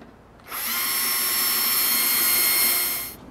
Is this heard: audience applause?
no